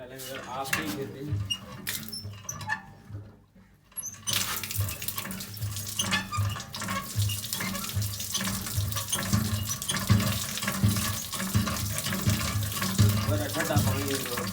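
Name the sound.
water running from tap, filling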